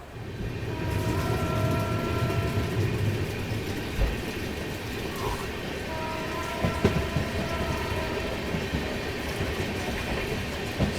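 Kacheguda to Madurai Weekly SF Express picking up speed out of the station, a steady broadband rumble of wheels and carriages with faint tonal whines and occasional clanks, continuous and fairly loud throughout, no talking.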